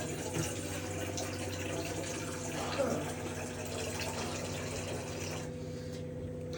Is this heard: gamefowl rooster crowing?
no